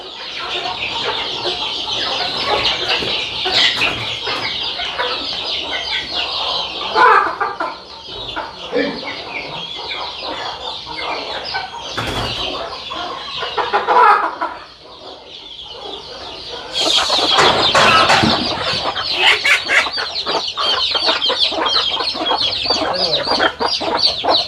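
Native country chickens and growing chicks cluck and call continuously on a Karnataka poultry farm. A rooster sounds now and then, and low voices talk faintly in the background.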